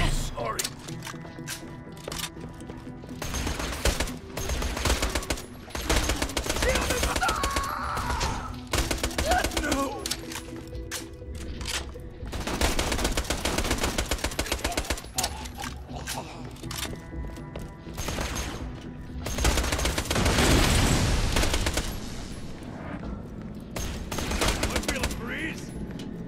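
Hyperion SMG fire in Borderlands: The Pre-Sequel, rapid repeated bursts of automatic shots coming and going over about half a minute, with someone talking over much of it.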